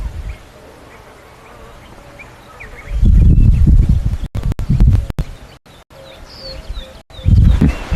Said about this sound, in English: Listening to all the birds this morning as well, every time we switch off.